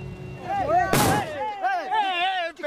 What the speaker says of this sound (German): Plötzlich taucht eine Gruppe junger Männer mit Gewehren auf. Schüsse fallen.